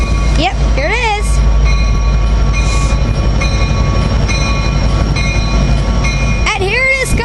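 A southbound Coaster commuter train pulls into a downtown San Diego station with a loud steady rumble and rolling clatter, its horn sounding near the start and again at the end.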